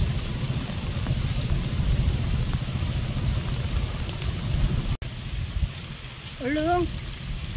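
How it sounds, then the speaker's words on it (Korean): Rain falls outdoors as a steady broadband hiss with pattering on surfaces, continuous throughout, with a brief cat meow rising near the end. "비 온다."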